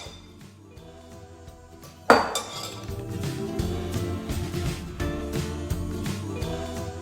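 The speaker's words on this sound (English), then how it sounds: "We're going to pour the apples into the strainer so that we can get out all the juice" A sharp clatter as apples tumble into a metal strainer set over a bowl, followed by several seconds of rattling, clinking and settling with no talking.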